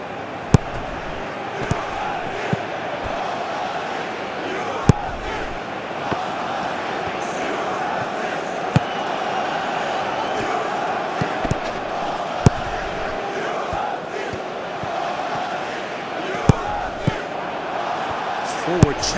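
Steady stadium crowd noise from the PES 2020 football video game during a Greece versus Bulgaria match, a constant roar punctuated by sharp thumps, with commentary voices talking over it.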